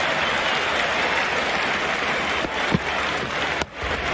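Dense, steady crowd applause in an Ashes Cricket video game, a broad wash of clapping that holds throughout with a couple of brief louder bumps near the end.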